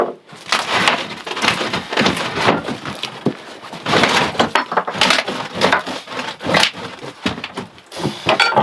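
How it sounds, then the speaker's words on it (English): Rotten plywood subfloor being torn up with floorboards and screws pulled loose, heard close as a busy run of wooden cracks, splintering creaks and scraping thuds that continues without a break. "as I'm pulling up these floorboards, they're really not rotten"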